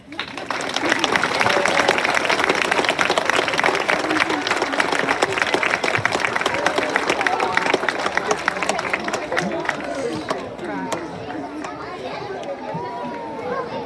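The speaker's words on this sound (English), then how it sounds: "could we raise baby Simpson up and give her a clap?" A crowd at a This Is Your Life tribute bursts into sustained applause and clapping for a raised-up baby, loud and dense at first, then thinning toward the end with chatter and voices mixed in.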